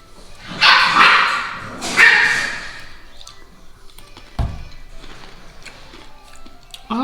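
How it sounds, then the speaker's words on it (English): Several dogs barking and scuffling indoors, two loud bursts of yapping and growling up close, followed by quieter yips, whimpers and a sharp thump. "These dogs just keep fighting and they're giving me a headache."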